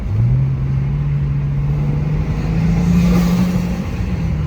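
A blue Ford BA sedan, tuned and fitted with a blow-off valve, revs up under load with a loud, close, droning engine roar that holds and climbs steadily, rumbling throughout with no talking.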